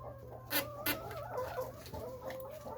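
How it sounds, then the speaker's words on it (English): Chickens on a farm cluck repeatedly at close range, with two sharper squawks standing out early over a steady low background hum. "Oh, there's a chicken."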